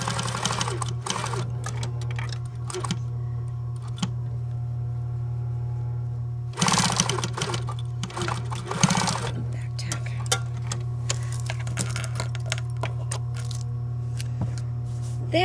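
A sewing machine stitches a seam on a movie costume in close, steady runs, with brief pauses and bursts of faster stitching under a constant motor hum, and no talking.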